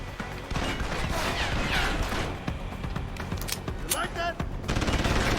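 Gunfire in the video game Deus Ex: Human Revolution, a string of sharp shots and bursts over a dense, busy backdrop of game noise and mechanical clatter, fairly steady and loud.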